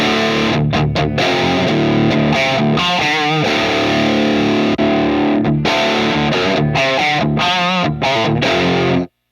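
Electric guitar played through a Mesa Boogie Mark VII amplifier on a heavy distorted setting, loud chugging chords and sustained notes with brief stops between phrases, close and alone without any voice.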